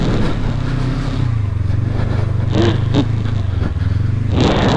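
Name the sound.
motorcycle engine revving on snowy trail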